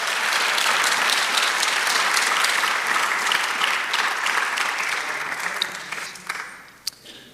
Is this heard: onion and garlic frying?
no